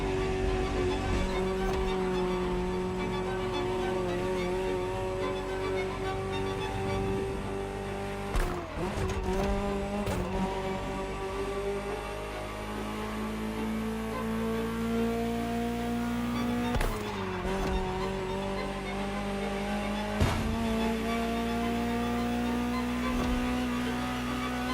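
Ferrari supercar driven in The Crew Motorfest racing game: a loud, sustained engine drone holding steady revs, broken by several sharp gear-shift dips and rebounds, close and continuous with no talking.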